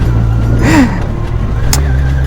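Superbike engine given a quick throttle blip, a loud rising rev that swoops up and falls back, then settles into a steady idle hum.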